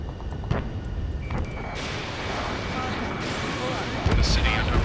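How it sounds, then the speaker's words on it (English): Dense rumbling roar of jet engines and combat noise in an Ace Combat 7 mission over a city under martial law, loud and continuous, with bursts of gunfire and a swelling roar near the end. "Gunfire and the roar of jets echoing through the streets"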